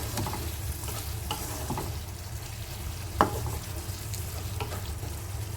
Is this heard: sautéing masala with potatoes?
yes